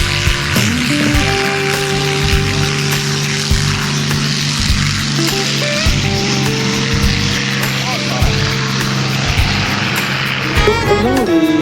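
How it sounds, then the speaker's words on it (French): Three small Piper Cub propeller planes return to land at an airshow at La Ferté-Alais, their engine drone and propeller buzz running steadily throughout at moderate loudness, with people talking over it. "dans un avion comme le petit Piper Cub, dont les 3 exemplaires que nous avons ici sont en train de revenir au sol"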